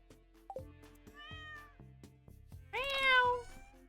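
A cat meows a few times close to the microphone, quiet overall, with one short mew and then a longer, louder drawn-out meow near the end.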